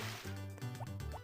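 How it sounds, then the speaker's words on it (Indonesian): Plants being watered in Harvest Moon: Back to Nature: a short, close burst of synthesized splashy sloshing with a couple of bubbly gurgles over background game music, no voices. "sekarang gue akan siram tanaman guys"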